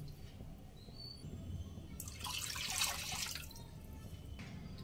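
Full cream liquid milk, about 750 ml, poured into a cooking pot for homemade kulfi, a brief splashing liquid rush that swells and fades over roughly a second and a half, alone over a quiet room background.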